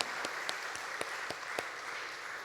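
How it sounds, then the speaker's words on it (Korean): A church congregation applauds the choir after a hymn: quiet, sparse handclaps from a small crowd, a few distinct claps rising briefly from a soft background. "우리 박수 한번 쳐드리겠습니다"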